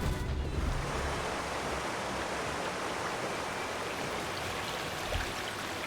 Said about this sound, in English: The water has been drained completely.